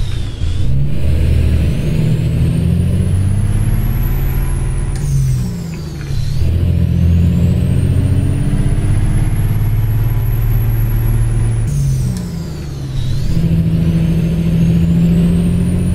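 A heavy truck hauling a trailer in American Truck Simulator, engine droning loud and steady with revs rising and falling, a whistling turbo-like tone sweeping up and down, and brief dips around gear changes.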